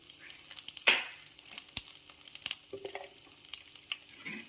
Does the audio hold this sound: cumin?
yes